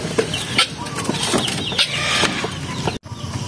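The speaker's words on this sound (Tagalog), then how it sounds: "Native chicken backyard." Native chickens in a backyard, several close birds clucking and squawking in a busy, overlapping chorus with a burst of wing flapping, then an abrupt cut near the end.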